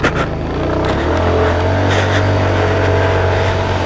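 A small stock motorcycle engine revs loudly and close by, climbing from a quick blip into a sustained, steady high-revving drone with no talking over it.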